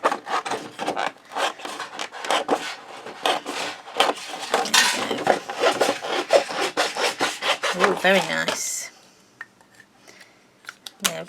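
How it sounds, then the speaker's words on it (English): A pair of new scissors cutting through paper for crafting, a rapid run of crisp snipping and rasping strokes, close and loud, ending in a short remark from a person. "Now I've got my new scissors here that I haven't used yet, so let's take them out for a test run."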